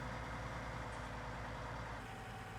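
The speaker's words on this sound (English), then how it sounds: "our first tractor has actually arrived" A tractor engine in Farming Simulator 19 rumbles steadily at a low pitch as the tractor pulls up, a constant close drone with no talk.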